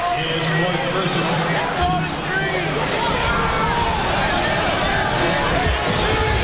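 A basketball crowd at a Cal at Oregon State men's game stirs in a low, continuous murmur after a foul call, with a commentator talking over it throughout.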